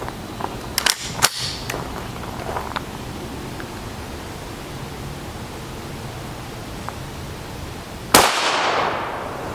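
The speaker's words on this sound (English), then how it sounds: "So now we'll take a shot with the PS90." A single loud, sharp gunshot from a PS90 firing 5.7x28mm 50-grain Nosler ammunition cracks outdoors late on, with a short decaying tail, preceded by a few small clicks and handling knocks over steady background hiss.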